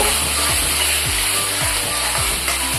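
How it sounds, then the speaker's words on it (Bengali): Masala for Tangra fish tel jhal sautéing in oil in a pan, a loud, continuous sizzle close up, with a spatula scraping and stirring in a repeating rhythm. "এবার এটা আমি ভালো করে কষিয়ে নেব।"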